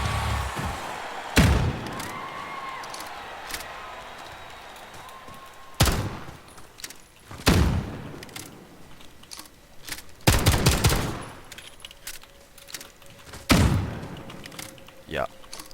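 Sharp gunshots from a weapon in Call of Duty Warzone ring out as separate loud cracks and short bursts spaced several seconds apart. Quiet game ambience fills the gaps between them.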